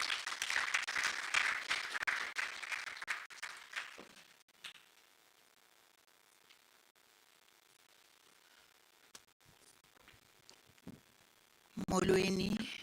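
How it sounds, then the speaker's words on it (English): Audience applause at a film expo, a broad burst of clapping for about four seconds that fades into quiet room tone with faint noises, then a voice begins speaking near the end. "Can we give a round of applause?"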